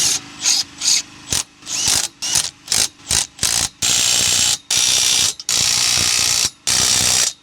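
A hand ratchet fitted with a 3/4 socket tightens U-bolt fasteners on a camper trailer axle, clicking in short quick strokes and then in longer sustained runs, close and loud.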